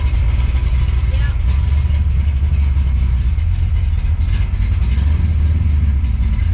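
A 1967 Ford Mustang's engine runs as the car moves under its own power again, a loud, steady low rumble up close, with people talking over it.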